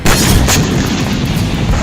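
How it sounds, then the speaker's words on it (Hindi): A loud, booming missile-strike explosion on a Ukrainian military base in Sudzha bursts in at once and rolls on as a dense, heavy roar throughout. "रूस ने सुज्जा में मौजूद यूक्रेनी सैन्य बेस पर मिसाइल से हमला किया, जिसके बाद जबरदस्त धमाका देखा गया"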